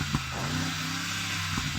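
A Mercedes-AMG G63 engine rumbles steadily with a low, droning tone, rising slightly as it revs during a drag race, close by and fairly loud.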